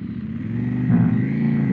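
A CFMOTO 800NK motorcycle engine runs close and loud, a deep steady idle that swells in a brief rev and holds at a slightly raised throttle.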